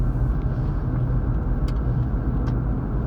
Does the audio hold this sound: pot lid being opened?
no